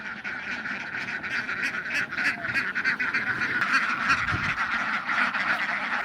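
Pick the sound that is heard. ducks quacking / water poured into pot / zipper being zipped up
ducks quacking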